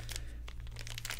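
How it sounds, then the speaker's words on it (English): Plastic packaging crinkles and rustles in short bursts as it is cut open with scissors, close and fairly quiet over a low steady hum. "Let's open this one up with a pair of scissors."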